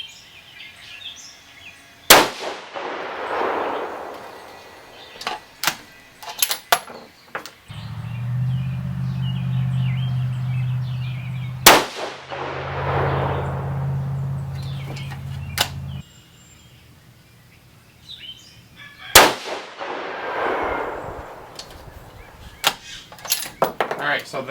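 6.5 Creedmoor Savage 110 rifle firing Barnes 140gr Match Burner rounds, three loud sharp shots spaced several seconds apart, each with a fading echo tail, between quieter handling clicks and a low droning passage.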